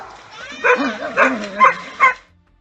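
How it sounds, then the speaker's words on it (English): Dogs bark while chasing a kangaroo, with four bright, tonal yelps in a loose, uneven rhythm, close and loud over an otherwise quiet background. "Two dogs chased the kangaroo into the woods, and as the dogs enjoyed the thrill of the chase, they ran in pursuit."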